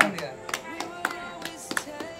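Scattered hand claps from a group of young people during an overnight no-sleep challenge, a handful of sharp separate claps spaced irregularly over excited talking voices.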